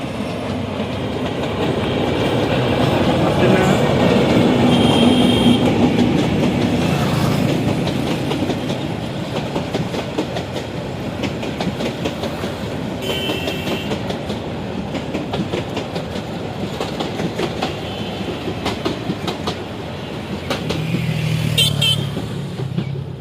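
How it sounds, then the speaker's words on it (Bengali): A train rolls past near a river bridge, a loud sustained rumble of wheels with clickety-clack rail beats that swells and fades over about twenty seconds, with no voices. "এখানে ট্রেন এসেছে আমরা ট্রেন আপনারা দেখতে পাচ্ছেন ট্রেন যাচ্ছে"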